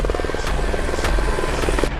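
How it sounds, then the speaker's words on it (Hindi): Cartoon helicopter flying: rapid rotor chop pulses steadily and loudly with a buzzing engine whine, continuous and close. "वाह, मैं हेलीकॉप्टर बन गया।"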